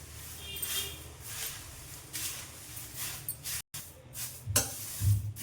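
Poha chivda is stirred in oil in a pan, giving soft intermittent scraping and a light sizzle, with brief louder stirring strokes and a momentary dropout.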